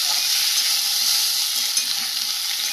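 Pre-fried vegetables and a whole tomato being stir-fried in a pan, a loud, continuous close sizzle with the steady scrape of stirring throughout.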